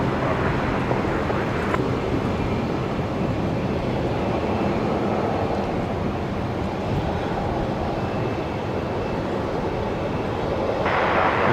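A Qatar Airways airliner taxis across a runway at Brisbane Airport, its engines giving a steady, loud broadband roar that holds evenly for the whole stretch with no break.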